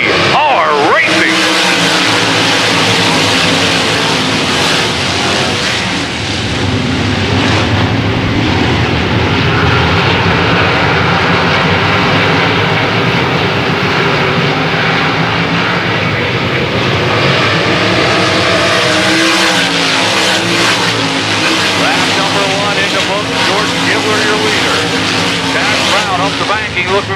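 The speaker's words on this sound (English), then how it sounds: "358 sprint car feature, green flag in the air." 358 sprint cars roar away at a green flag start on a race track: a loud, dense wall of engine noise that swells and holds, with a voice talking over it.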